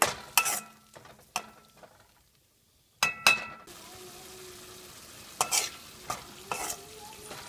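Tomato puree cooking in a pan for a South Indian drumstick and broad bean kuzhambu, with a low steady sizzle under repeated sharp scraping stirs of a spoon against the pan, and a brief quiet pause partway through.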